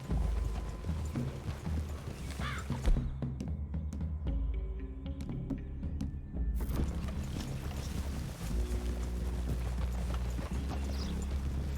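Horse hooves clip-clop in a steady rhythm through the wilds of Red Dead Redemption 2, with ambient wind and tack rattle underneath.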